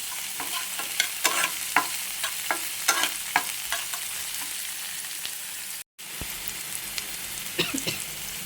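Garlic, onion, green chilli and black cumin frying in a pan, a soft, close, steady sizzle broken by clattering stirs and scrapes, with a brief dropout near the end.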